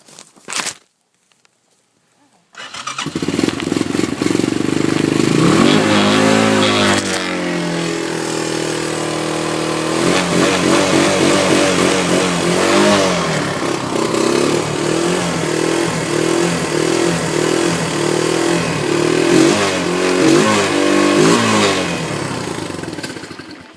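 A Honda three-wheeler engine is choked and started, then revs loudly and unevenly for about twenty seconds in rising and falling bursts with a steady rough idle between them, close to the listener.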